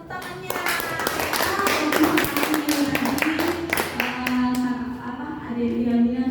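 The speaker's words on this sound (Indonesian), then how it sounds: "silakan beri tepuk tangannya" A small audience at a lecturer training session applauds, with scattered, uneven hand claps that are fairly close and rise and fall over a few seconds, and voices can be heard speaking during it.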